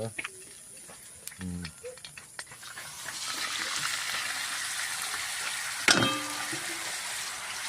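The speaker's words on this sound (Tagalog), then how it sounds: "Gisa lang sa mantika yan" Garlic and onion sautéing in cooking oil in a home kitchen, a steady hiss that swells after a few seconds into continuous sizzling, with a sharp clatter partway through and a few brief voice sounds early on.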